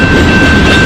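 A freight train of oil tank cars rumbles past loudly and close by, a steady dense roar of rolling wagons with no voices.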